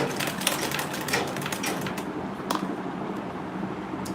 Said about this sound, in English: So I'll back stitch.